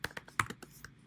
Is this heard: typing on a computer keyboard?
yes